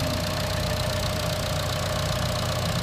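A 2015 Chevy Trax with a 1.4 liter EcoTec turbo engine idling steadily, a close, even mechanical hum with a constant whine and no break across the whole stretch.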